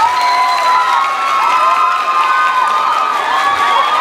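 A crowd at a Mojiganga pageant contest in Tepalcingo cheers, whistles and shouts steadily, with the shouting dense and loud for the whole stretch and no clear pauses.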